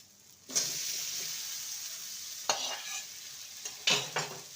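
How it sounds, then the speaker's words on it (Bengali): Fried papaya and potato pieces stirred into spice paste in a hot pan, a continuous sizzle broken by three brisk scraping strokes of a spatula. "ভালো করে মশলার সাথে কষিয়ে নেব"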